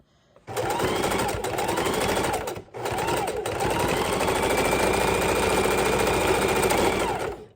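A sewing machine runs in a loud steady whir while stitching lace trim onto a junk journal cover, with a brief stop near the middle before it resumes backstitching.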